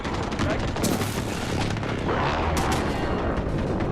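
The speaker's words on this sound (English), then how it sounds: "Friendly precision airstrike on the hostiles at Bravo." A precision airstrike in a Modern Warfare multiplayer match lands as a continuous, rumbling barrage of blasts and gunfire. Sharper cracks punch through the dense roar at a few points, and faint voices sit underneath.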